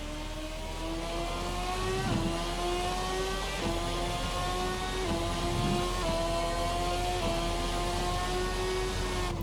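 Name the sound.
RSS Formula 2013 V8 race car engine revving, racing sim video game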